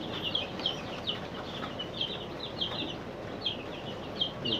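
A crowd of about 90 farm chicks peeping continuously in high, overlapping chirps over a steady background hum, with no voices.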